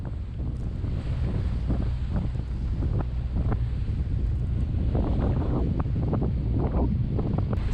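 Steady wind rushes and buffets the microphone aboard a sailboat under way at sea on a Caribbean passage from Bequia to St Lucia, with water and wave wash running continuously beneath the gusts and no talking.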